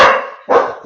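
A dog barks twice in quick succession, loud and close, breaking into an online meeting with no talk over it.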